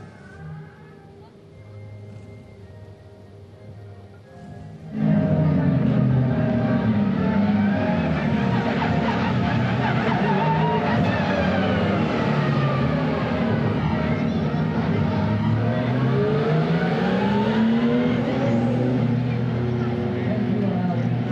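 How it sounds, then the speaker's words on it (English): A Porsche 911 Cup race car at a racetrack, its gearbox whine and engine roar rising loudly and continuously after a quieter opening, with a voice present over the noise. "the Portuguese national anthem, combined with the gearbox whine of a Porsche 911 Cup car in the background"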